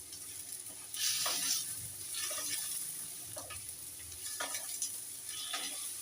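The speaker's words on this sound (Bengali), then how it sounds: "এবারে ওইটার মধ্যেই মাছের মাথাটা দিয়ে আরেকটু নাড়বো।" Fish head stirred into frying mugar dal (moong lentils) in a pan, giving a steady low sizzle with several scraping stirs and a few sharper clatters, close and moderately loud, with no talking.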